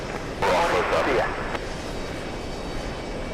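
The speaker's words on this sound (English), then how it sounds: "The Mexican 787 Dreamliner." A Mexican Boeing 787 Dreamliner jet at JFK airport gives a brief, loud swelling roar that rises and fades within about a second, with aircraft noise continuing faintly beneath and voices around it.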